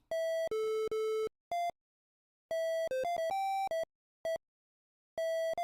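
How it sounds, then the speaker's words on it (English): Electronic beeps from TempleOS on a computer, in bursts of varying pitch and length, some held tones and short blips, separated by silences. "It's just some beeps like this, right?"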